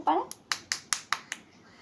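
A short series of five sharp hand claps in a fairly even rhythm, close and crisp, follows a brief burst of a voice at the start.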